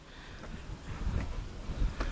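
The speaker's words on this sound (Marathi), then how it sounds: "पावसाळ्याचा वारा छान असा मस्त" Monsoon wind gusting across an exposed hillside fort path, buffeting the microphone in uneven low rumbles that swell and fade over a couple of seconds.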